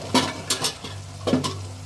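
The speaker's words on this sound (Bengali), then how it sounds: "এখন আমি এটা ডাল ঘাঁটা" Boiled onion-stalk bharta with mustard oil being mashed and stirred with a dal masher in a pot, giving a few soft squelching, scraping strokes close by with brief pauses between them.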